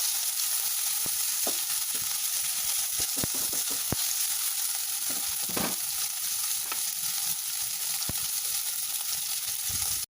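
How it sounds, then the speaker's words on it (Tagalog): Garlic, onions and pork sautéing in a hot pan, a steady close sizzle with intermittent stirring clicks and scrapes. "igisa natin ang ating sangkap. Garlic and onions."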